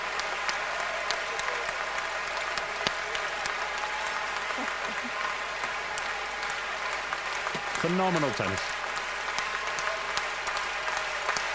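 A large crowd at a 1992 Brussels indoor tennis final applauds steadily throughout, a dense sustained roar of clapping, while someone speaks briefly over it.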